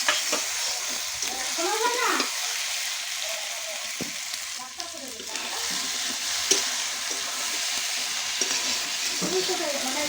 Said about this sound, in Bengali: তো আলুগুলো এখানে ভেজে নিচ্ছি